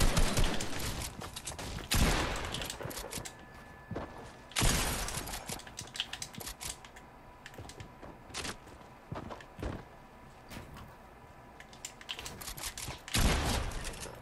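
Gunfire in a Fortnite match, with repeated loud bursts of shots and sharp single cracks scattered across the stretch, some up close and some further off, amid footsteps and mechanical clatter.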